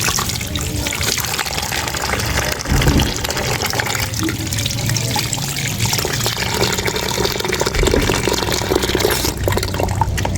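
Cut jackfruit being washed under running water at a home kitchen sink, a loud continuous splashing stream with shifting gurgles and no pauses.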